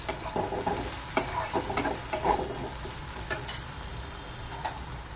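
Ginger garlic paste fries in a pan with a continuous sizzle, punctuated by a quick run of spatula scrapes and stirring knocks early on that thin out later.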